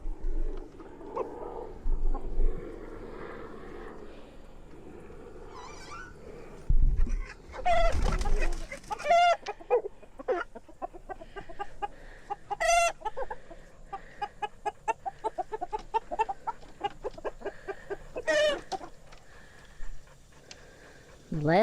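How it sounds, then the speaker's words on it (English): Pastured roosters and chickens cluck and squawk in a handful of sharp, scattered bursts close by, over low handling noise and rustling on a poultry farm. "The last of the roosters."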